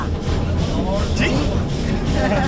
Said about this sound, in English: 您现在乘坐的江阳小火车是全世界唯一每天还在正常客运的蒸汽燃煤载轨小火车